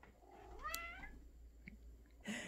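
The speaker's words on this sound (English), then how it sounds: "Oh my god, my cat." A house cat gives a single rising-and-falling meow, fairly close but soft, in a quiet indoor space with no talking.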